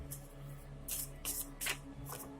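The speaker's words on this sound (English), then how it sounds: "I am going to wrap up this reading now by drawing out one of these index cards here." Index cards are drawn from a deck in a quiet room, giving four or five brief, crisp papery swipes and flicks. They are close and soft over a faint steady hum.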